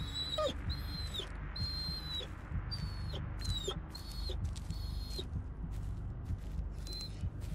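High, thin dog whimpers from the horror game Blair Witch, coming in rapid repeated whines over a thick, rumbling low ambience and fading near the end, with no talk.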